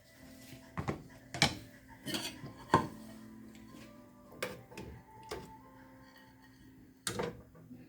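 Serving spoon clinks and scrapes against a plate as chicken in thick peanut sauce is dished out, sharp isolated knocks spaced irregularly with quiet between.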